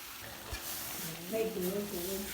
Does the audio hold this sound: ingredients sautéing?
yes